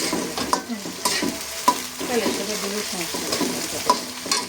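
Pulao rice stirred in a pot while it cooks, with an irregular run of close scraping and clattering spoon strokes over a soft sizzle and no talk.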